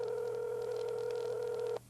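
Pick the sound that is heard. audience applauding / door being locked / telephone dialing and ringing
telephone dialing and ringing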